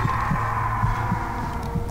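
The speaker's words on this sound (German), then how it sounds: "Was ist dieser Herzschlag?" Slow, steady heartbeat thumps pulse low under a droning ambient hum in the Warcraft III: Reign of Chaos game, repeating evenly with no voices over it.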